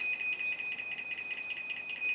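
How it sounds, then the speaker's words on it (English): A Chamberlain MyQ smart garage door opener sounds its warning alarm, a steady, rapidly pulsing high-pitched electronic beeping that repeats evenly throughout at a moderate, close level with no one speaking. "Now, some of you may find the warning alarm annoying."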